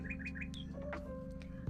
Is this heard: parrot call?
yes